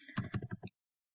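A short, close burst of about five quick keystrokes on a computer keyboard, followed by silence.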